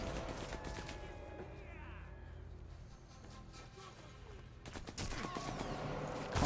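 Sniper Elite 4 gameplay gunfire, with bursts of shots and sharp cracks at the start and again near the end, separated by a quieter spell of game ambience and faint voices.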